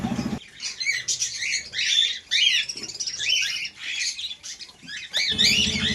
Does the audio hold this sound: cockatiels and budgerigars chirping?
yes